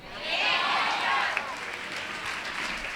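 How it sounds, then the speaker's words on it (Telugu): A church congregation clapping during a sermon, a broad burst of applause from a crowd that swells and then holds steady, with voices mixed in. "చప్పట్లు కొట్టండి"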